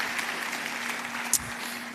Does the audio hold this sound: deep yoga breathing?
no